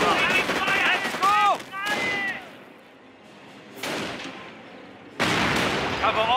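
Gunfire aimed at armor in the Company of Heroes: Tales of Valor strategy game: bursts of shots and impacts in two loud bouts separated by a quieter lull, with voices calling out over them.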